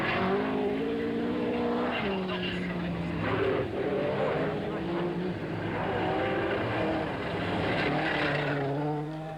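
Rally cars race along a stage, a Porsche chasing an Opel Ascona, their engines revving continuously and loudly with shifting pitch as they close in, and a commentator talks over the noise.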